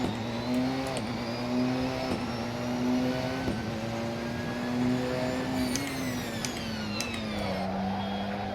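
A Porsche 919 Hybrid race car at Sebring in Assetto Corsa, its engine holding a steady high-pitched drone with sharp gear-change blips and rising revs, close and alone with no talk.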